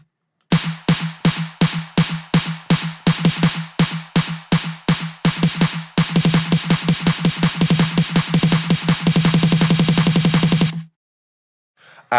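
A programmed drum beat with sharp claps repeats steadily, then speeds into rapid-fire hits before cutting off abruptly.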